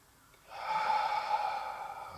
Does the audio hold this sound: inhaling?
yes